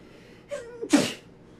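A single sharp human sneeze with a short inhaled build-up, close and clear over a quiet background.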